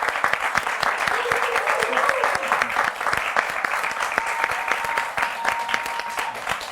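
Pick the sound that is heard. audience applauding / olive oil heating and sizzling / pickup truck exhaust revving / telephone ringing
audience applauding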